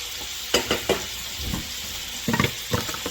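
Hamburger meat sizzles steadily in a pan while a utensil scrapes and knocks against it in irregular strokes, close and clear, with no talking.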